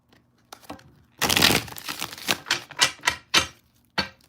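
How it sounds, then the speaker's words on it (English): Tarot cards being shuffled by hand, a burst of dense riffling followed by several sharp, separate snaps and flicks as the deck is squared, close and fairly loud with no voices. "One more shuffle."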